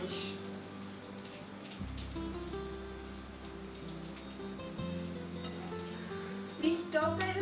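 Curry leaves stir-frying in hot oil with ginger for a Kerala fish curry, a steady soft crackling sizzle running throughout at moderate level, with a brief sharper burst of spitting near the end.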